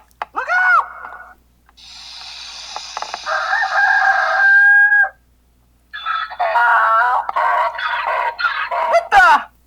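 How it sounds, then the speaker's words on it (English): A rooster crowing sound effect plays loud and close, a drawn-out cock-a-doodle-doo among other shrill animal-like effects and short bursts, with brief silences between them. "Paul, am I hearing snakes? Donkeys? Roosters?"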